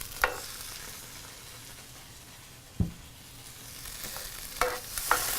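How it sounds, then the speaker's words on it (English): Stewed tomatoes and broccoli stirred together in a hot pan, with soft scraping strokes and a few sharp utensil knocks against the pan over a low, steady background sizzle. "we're going to go ahead and mix our stewed tomatoes with our broccoli"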